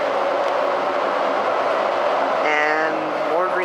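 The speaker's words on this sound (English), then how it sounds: "Three car train again." MAX light rail three-car train, a close, loud steady rolling hum with rising whining tones toward the end, while a person talks over it.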